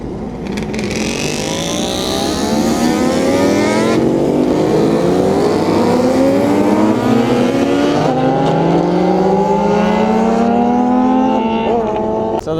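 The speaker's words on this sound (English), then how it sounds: "Maserati and SLR rolling out." A Maserati MC12 and a Mercedes SLR supercar pull out at Daikoku parking area, engines loud and close, rising through gears in long revving sweeps with a sharp shift partway through.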